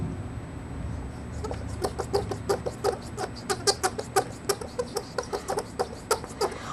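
A rapid series of small creaky, squeaking bleats from a large Japanese Daruma doll's noisemaker being turned, repeating in quick uneven bursts close by over low background hum.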